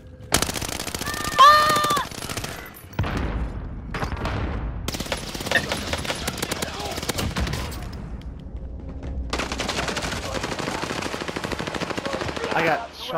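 Rapid automatic gunfire crackles in a video game firefight, with repeated bursts and single shots at close range, loud and sustained across the whole stretch, with a brief sharp electronic tone near the start.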